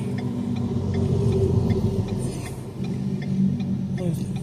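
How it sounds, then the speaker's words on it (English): Heavy city traffic rumbling steadily around a truck cab, a deep continuous engine drone with faint ticking over it and some muffled talk in the cab. "Oh, now here comes all the heavy city traffic again."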